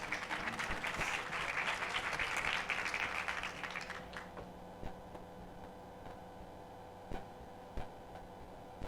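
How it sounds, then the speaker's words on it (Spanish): Audience applause at a conference event, about four seconds of dense clapping that fades out, followed by a quiet room with a few scattered claps. "con un aplauso recibámoslos a los tres."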